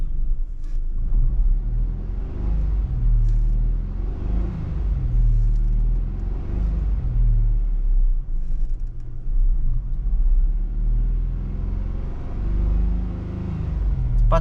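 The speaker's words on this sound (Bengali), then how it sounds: "কিন্তু আমি নিচে অ্যাক্সেলেটর একটু প্রেস করছি" Engine of a Nissan Magnite car heard from inside the cabin while the accelerator is pressed, a steady deep rumble with gently rising and falling drone, loud and close, with no talk.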